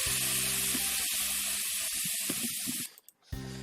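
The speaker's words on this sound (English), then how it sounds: "She jumped back at the sound of sizzling oil." Meat sizzling in a greased frying pan in a visual novel game, a steady loud hiss of hot oil that runs for nearly three seconds, stops abruptly, then resumes briefly at the end.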